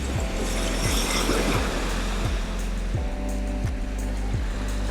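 Ocean waves roll and wash continuously, a broad steady surf with gentle swells, loud and enveloping, with no voices over it.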